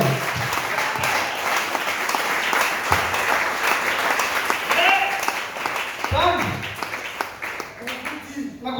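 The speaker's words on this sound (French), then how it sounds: "acclamez d'abord" A church congregation claps and applauds at a Sunday service, a dense steady wash of hands lasting several seconds, with voices talking and calling out over it.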